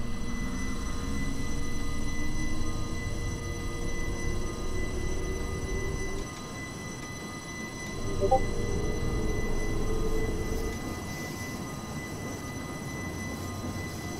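A train runs along the Bernina Line in Train Simulator 2020, giving a steady rumbling drone with a faint tonal whine that drops briefly midway and then swells again, with no talk over it.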